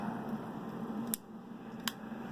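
Scissors on a Gerber Bear Grylls survival multi-tool are opened with a faulty rivet, giving two sharp, distinct metallic clicks about a second apart against a steady low hum of room noise.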